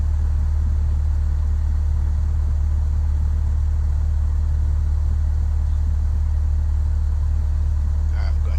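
A simulated Cessna 172 in Microsoft Flight Simulator X rolls out along the runway after landing, its engine a steady, loud, low droning hum without braking, unchanged throughout.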